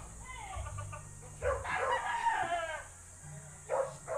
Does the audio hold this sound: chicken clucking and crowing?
yes